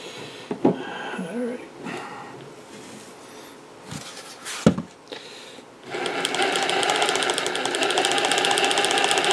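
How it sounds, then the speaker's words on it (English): An Axial RR10 RC crawler's drive shaft binds at a steep angle, giving a loud, steady mechanical whirring that starts partway through, after a few scattered knocks and clicks. "That's just because the drive shaft is binding up because it's set at such an angle"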